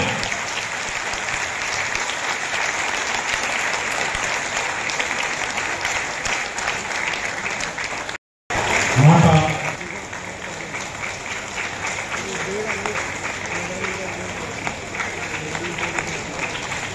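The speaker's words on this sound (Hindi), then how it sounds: "ऐसे जमास के लिए तालियां थोड़ी कमजोर है आपकी" Sustained applause from a ceremony audience at a 2023 Vijay Diwas soldiers' and talent honours event, dense steady clapping that runs on for many seconds with a brief cut and a voice over the crowd midway.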